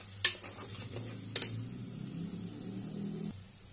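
Garam masala roasts in hot oil for masoor dal amti, giving a soft, faint sizzle broken by a few sharp spoon clicks against the pan as it is stirred.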